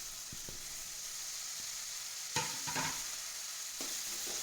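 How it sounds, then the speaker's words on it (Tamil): Tomatoes, onions and cashews sauté in a pan under a quiet, even sizzle, with scattered spatula scrapes and stirring clatter that grow busier toward the end. "அதை இது கூட ஆட் பண்ணி நல்லா வதக்கிக்கலாம்."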